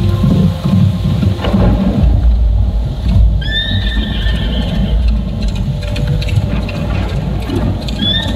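A horse whinnies in a dramatic sound-effect bed for a Bahu Fort narration about the Ashvamedha sacrificial horse, a bright high neigh ringing out mid-way and again near the end over rumbling thunder, rain and hoof clatter.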